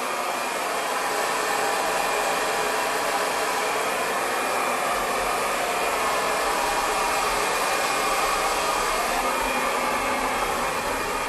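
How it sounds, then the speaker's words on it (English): A hair dryer with a nozzle attachment blow-drying above-shoulder-length hair, a loud, close, steady whooshing roar that runs unbroken throughout, with no talking. "just with the surface of the dryer and the nozzle,"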